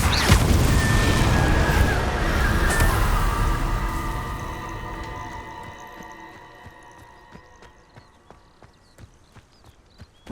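An Incendio fire spell cast in the PS5 game Hogwarts Legacy erupts as a loud, roaring burst that slowly fades over several seconds, leaving scattered faint clicks and a final sharp tap.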